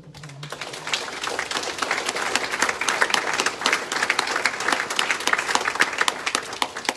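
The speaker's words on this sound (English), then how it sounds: "So could we give Diane a round of applause?" A room full of people at a healthcare town hall meeting in Burnsville breaks into applause, a dense, lively patter of many hands clapping that builds quickly and stays strong for several seconds with no talking.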